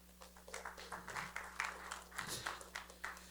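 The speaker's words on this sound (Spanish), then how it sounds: "pero denle un aplauso al Señor" Church congregation applauding during a Spanish-language sermon, a faint, distant patter of clapping hands with a steady hum beneath and a few voices mixed in.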